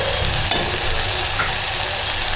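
Cashew vegetable frying in a pan with spices and chilli powder being stirred in, a loud, steady close-up sizzle with one sharp utensil clink and no voices.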